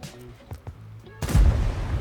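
A single heavy tank cannon blast from the Type 5 Ka-Ri in World of Tanks booms suddenly after quieter mechanical hum, followed by a rumbling low tail that lingers to the end.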